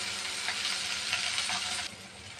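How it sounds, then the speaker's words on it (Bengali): Chopped tomatoes frying in a pan with oil for egg noodles, giving a steady close sizzle with light crackles throughout, easing slightly near the end. "টমেটোটা আমি ভেজে গালিয়ে নিব"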